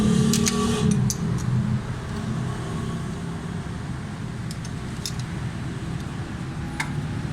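Idling Suzuki Cultus EFI engine with a steady tappet tick, a fast light ticking riding over a constant low mechanical hum, close up and with no talking.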